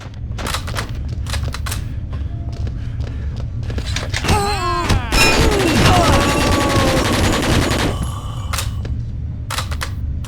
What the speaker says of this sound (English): It's a very peculiar gun. It has one barrel for primary fire, and another two for secondary.